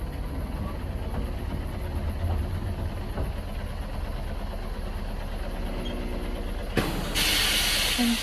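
Driving Creek Railway train in Coromandel, New Zealand, climbing its track with a steady low rumble and constant steam hiss, ending in a louder broadband rush of hiss.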